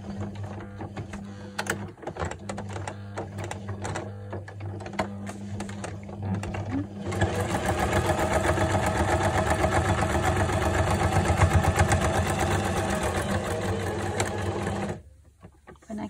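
A sewing machine backstitches through fabric for an envelope pouch, first a few short bursts, then a loud, steady run of stitching about eight seconds long that stops abruptly.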